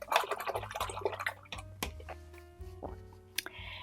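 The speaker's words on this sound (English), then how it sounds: "Wash my brush." A paintbrush is swished and tapped in a water cup while acrylic painting, giving soft splashes, drips and a few sharp clinks against the container, close and quiet, with no talk.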